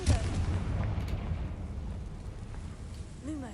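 A Confringo explosive spell cast in Hogwarts Legacy on PS5 gives a sustained low rumbling blast with a crackling burst tail, loud and close, fading over a few seconds.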